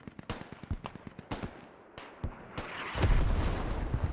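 Artillery fire and explosions in a video game battle with Marines surrounded in Kohat, a dense barrage of sharp booming blasts in quick irregular succession, then a heavier rumbling roar of impacts near the end.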